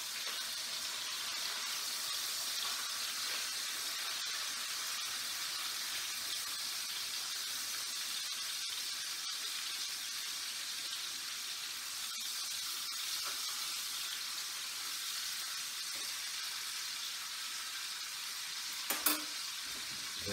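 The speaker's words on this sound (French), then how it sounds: "je veux juste le faire griller un peu pour qu'il prenne de la couleur" Meat sears in a hot frying pan, browning before it goes into the oven, with a steady, dense sizzle that holds for the whole stretch and one brief clatter near the end.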